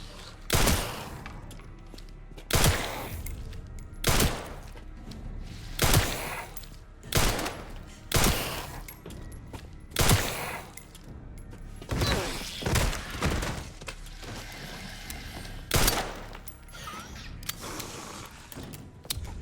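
Gunfire in the Resident Evil 9 video game rings out as loud, evenly spaced single shots, around a dozen over the stretch, with mechanical clicks between them.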